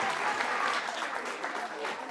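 Studio audience applause on a Catalan TV quiz show, a dense continuous wash of clapping at moderate level, heard briefly and steadily throughout with a voice partly mixed in.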